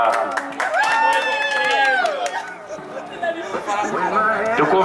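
An audience claps and cheers at a birthday celebration for a husband in Itaim Paulista, a burst of applause mixed with lively crowd chatter and voices talking over it, fairly close and loud.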